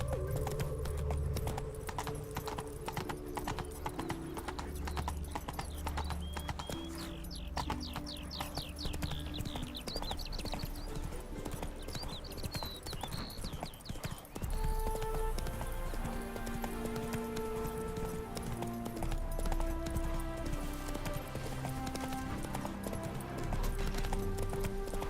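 Horse hooves clip-clop at a galloping pace in The Witcher 3 video game, steady and rhythmic throughout with a brief whinny, over game music and ambience.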